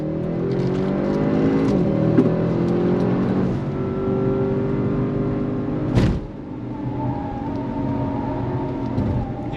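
Audi RS 6 Avant engine pulling hard under throttle, a loud close-up cabin roar with rising harmonic tones through the gears, a brief shift burst near the middle, then continued strong acceleration.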